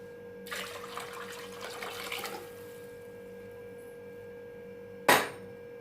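Water pours in a splashy stream onto cooked dal in a cooking pot for about two seconds, then quiet follows until a single sharp knock near the end.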